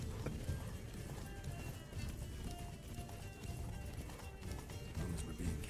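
Roach, Geralt's horse in The Witcher 3: Wild Hunt, gallops in a steady drumming rhythm of hooves over a low rumbling bed, fairly quiet and continuous with no talk.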